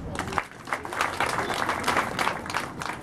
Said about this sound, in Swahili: Pigia hao makofi.